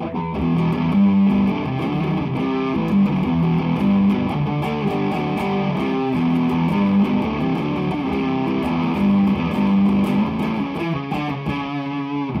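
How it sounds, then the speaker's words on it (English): Electric guitar run through always-on, high-gain distortion, a thick, dirty, saturated tone playing continuously and loud throughout, with no voices. "that kind of thick sound, that always on distortion making everything dirty."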